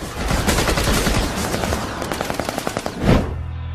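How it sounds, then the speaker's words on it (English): A 25mm chain gun fires warning shots at a boat, a loud, close burst of rapid, evenly spaced rounds ending in a heavier final blast that rings out and fades. "This is a 25mm chain gun, and this actually allows us to fire high explosive rounds into vessels"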